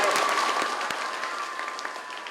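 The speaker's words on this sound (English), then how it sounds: "Let's give them a big round of applause for all of those guys" Schoolchildren and guests applaud veterans at an elementary school Veterans Day celebration, with dense clapping from a large crowd that fades gradually over a couple of seconds.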